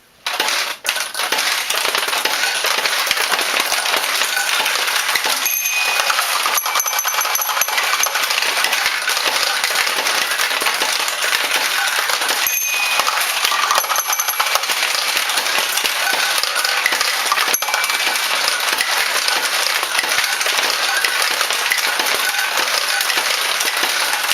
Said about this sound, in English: go ahead and play the machine a little bit from the back so you can see the lighting work and how it feeds more balls into the unit